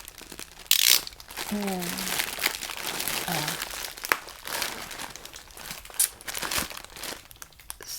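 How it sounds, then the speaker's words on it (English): Crinkly plastic packaging being handled and opened during a soft-spoken unboxing, with dense rustling and crumpling throughout, a few sharper crackles, and a brief soft voice partway through. "I don't know how I want to open this package because I don't want to cut what's inside."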